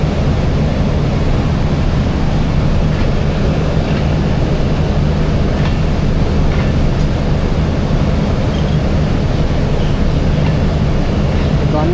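The Jaffar Express rushes past at close range, a loud, unbroken roar of wheels and carriages. It is heard from beside a train halted on the Rawalpindi–Lahore line.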